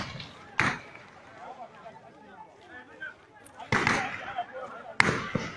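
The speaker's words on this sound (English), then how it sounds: "Gunshot everywhere." Gunshots ringing out during a bandit attack on Kagara town in Niger State, Nigeria: three sharp, loud cracks spaced seconds apart, with people talking amid background murmur.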